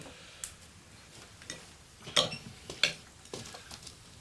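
Dishes and cutlery clink during washing up in a kitchen, a few sharp close clinks and taps spaced irregularly over a quiet background, with no talking.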